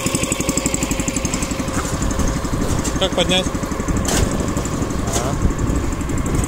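Small engine of a STAR MRB0850W self-propelled tracked Japanese round baler running steadily up close, a continuous mechanical drone with a brief rattle partway through, heard under a person speaking.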